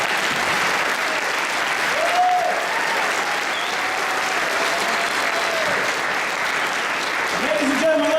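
An inaugural-ceremony audience in the City of Derby gives the new mayor a sustained round of applause. Dense, even clapping fills the whole stretch, with a few brief whistles or voices rising over it.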